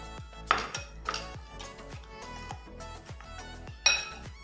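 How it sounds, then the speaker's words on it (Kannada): A spoon stirs two spoonfuls of maida mixture into homemade cake-topping cream in a bowl, made without whipping cream or an electric beater. Close, repeated clinks and scrapes of metal against the bowl come in an uneven rhythm with no talking. "2 ಚಮಚವನ್ನು ಹಾಕಿ ಮಿಕ್ಸ್ ಮಾಡ್ಕೊಳ್ಳೋಣ."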